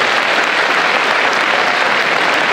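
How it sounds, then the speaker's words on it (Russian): A concert audience in a large hall in Moscow applauds between performances of pop hits, with loud, dense, uniform clapping throughout the short stretch. "Ваши аплодисменты."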